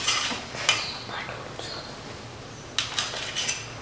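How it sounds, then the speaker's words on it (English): A knife cuts soft black urad dal idlis into cubes, giving a few sharp clicks and light scrapes against the cutting surface, separated by short pauses. "So now we are going to cut these idlis into pieces"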